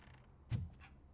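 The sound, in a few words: door creaking open in a video game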